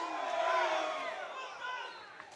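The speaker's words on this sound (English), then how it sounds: "And rightly applauded by the crowd." Crowd at a chess boxing match cheering and clapping for a fighter, a short lively burst of voices and shouts from a packed venue that fades slightly over a couple of seconds.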